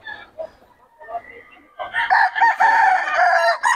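A rooster at a busy market crows loudly and close by, a strained, drawn-out call following some brief clucks, with faint background chatter around it.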